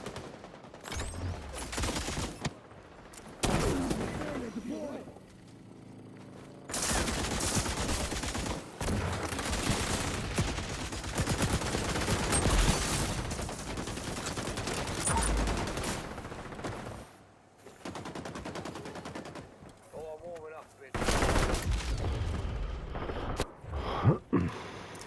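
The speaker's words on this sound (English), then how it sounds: "I put the RPK back on, just fucking finish these MG kills in this game." An RPK machine gun fires in the XDefiant shooter game, with long sustained bursts of rapid automatic fire broken by short pauses, loud and close throughout, with occasional other game sounds between bursts.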